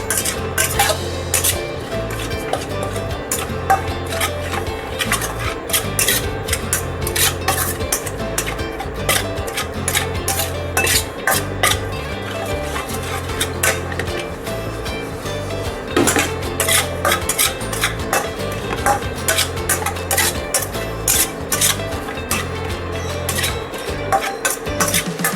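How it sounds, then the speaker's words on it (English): Coconut powder being roasted in a pan for laddu: a metal spoon scrapes and clinks steadily against the pan in a busy, continuous rhythm with no voices. "Next take the coconut powder, roast it nicely, little brown color, this also."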